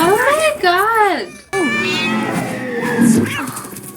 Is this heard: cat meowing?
yes